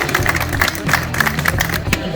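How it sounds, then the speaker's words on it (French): A crowd applauds riders at a cycling time-trial race, clapping and cheering close by for a couple of seconds over a low background hum. "on vous applaudit bien fort."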